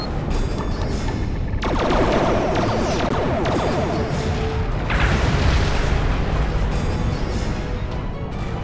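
A Borg vessel blowing apart in Star Trek Legacy, a sustained roaring blast of rumbling explosions that swells and rolls continuously at high volume.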